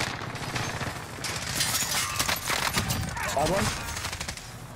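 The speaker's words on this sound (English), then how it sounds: "Oh, I'm getting sniped from stadium." Gunfire from a multiplayer shooter video game, with scattered sniper shots and bursts of rapid fire over a few seconds, while a player talks briefly over the shooting.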